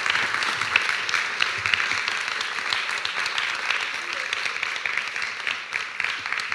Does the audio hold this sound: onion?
no